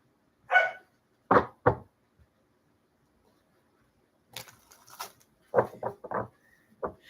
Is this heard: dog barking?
yes